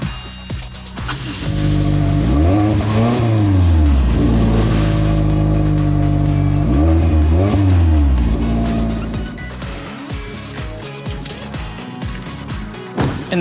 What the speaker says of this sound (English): uses a conical design and tuned muffler to deliver a pulse-quickening tone every time you